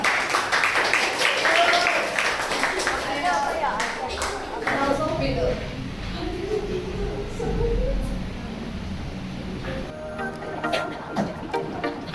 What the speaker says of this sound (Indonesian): ada kelompok kita beri tepuk tangan yang meriah